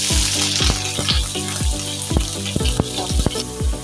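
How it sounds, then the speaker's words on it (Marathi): Paneer frying in hot oil in a pan, a steady close sizzle with repeated sharp clinks and scrapes of a spatula against the pan in an uneven rhythm. "सर्वात आधी ना आपण पनीर फ्राय करून घेणार आहोत"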